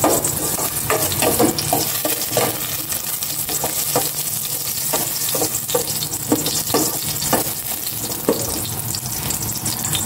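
Ginger, garlic and onion sauté in a hot pan with a loud, continuous sizzle, punctuated by rhythmic scraping and stirring strokes from start to finish.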